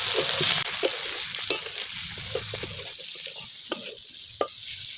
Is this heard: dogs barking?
no